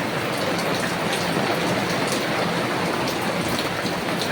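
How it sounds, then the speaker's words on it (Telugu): Steady rain pours down, a dense continuous hiss of drops on surfaces with no pauses. "పొద్దున నుంచి వర్షం పడుతూనే ఉంది"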